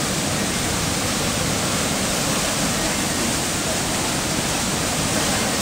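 Chiseni waterfall near Budhanilkantha roars as a steady, loud wash of falling water, close by and unbroken throughout with no voices over it.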